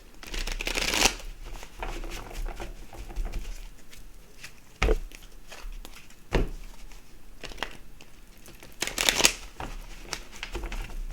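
Archetype cards are shuffled in several bursts, crisp riffling flutters separated by quieter stretches of soft handling and light taps, close by.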